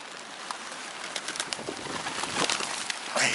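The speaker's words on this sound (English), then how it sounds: "that's a beautiful pigeon on there" Pigeons at a pier coo softly amid faint outdoor background noise, with a few brief rustles and flutters of wings near the end.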